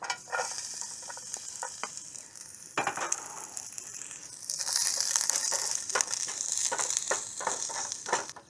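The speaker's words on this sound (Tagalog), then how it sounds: "Gigisa po natin to. Ilagay na po natin si bawang." Chopped garlic sautéing in a pan for fried rice, a lively crackling sizzle with scraping stirs and occasional clatters, rising louder midway and continuing close and unbroken at an outdoor campsite.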